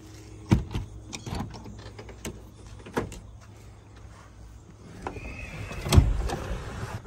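Power windows on a 1956 Continental Mark II with 14,185 miles: a short electric motor whine rises between soft clicks and thumps of the cabin, with a sharper knock near the end.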